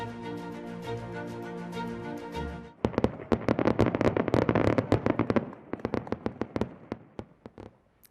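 Fireworks explode in a rapid, loud barrage of sharp cracks and bangs that starts abruptly after a steady tonal stretch, then thins into scattered pops near the end.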